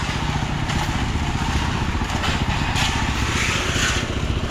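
A Robin-brand engine idles quietly and steadily, giving a continuous low rumble with a light mechanical clatter throughout and no talking.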